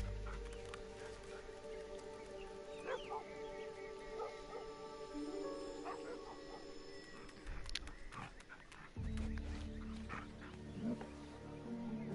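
Dogs in the Assassin's Creed Odyssey video game bark and yip in short bursts with whimpers, set among game ambience, music tones and animal sounds, fairly faint.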